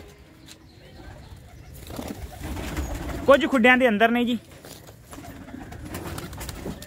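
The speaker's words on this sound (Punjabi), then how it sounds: "ਕੁਝ ਬਾਹਰ ਛੱਡੇ ਹੋਏ ਨੇ ਕਬੂਤਰ ਜਿਵੇਂ ਤੁਸੀਂ ਦੇਖ ਸਕਦੇ ਹੋ" Desi pigeons coo close by in a loft with burrow-like nesting boxes, giving a short burst of throaty, warbling calls over quiet background noise, with someone talking briefly before.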